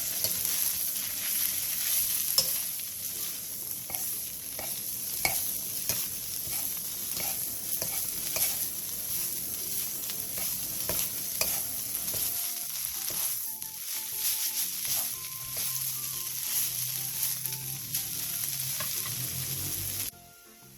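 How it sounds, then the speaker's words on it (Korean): Marinated chwinamul (aster greens) stir-frying in a pan over medium-low heat, giving a steady close sizzle with scattered crackles and scraping stirs; the sizzle softens in the later part and cuts off at the very end. "그 다음 재워놓은 취나물을 넣고 중약불에서 5분 정도 볶아주세요"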